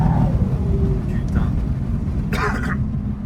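A BMW 325d E90 LCI diesel with a stage 2 full stainless exhaust gives a steady, loud low rumble from inside the car while it is driven. People talk over the engine.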